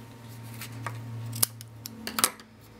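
Scissors snip a few quick, faint cuts trimming the ends of floss after a double knot while crafting a triangle favor box, sharp clicks close up in a quiet room.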